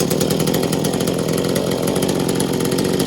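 Small Echo 2511 clone chainsaw screaming at full throttle, a loud, steady high-pitched two-stroke buzz held without a break for the whole stretch, close up and with no talking.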